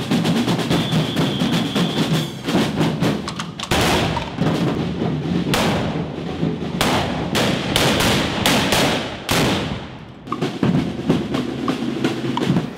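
Trabucaires fire blunderbusses at a town festival, the Festa Major of Sant Feliu d'Alella, in loud, rapid volleys of overlapping booming blasts, with brief lulls between the salvos.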